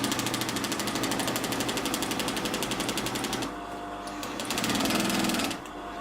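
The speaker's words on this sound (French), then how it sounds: "C'est parti, je vais pouvoir commencer à piquer." An industrial flat-bed sewing machine stitches in a fast, steady mechanical rattle up close, pausing briefly midway before running again and stopping near the end.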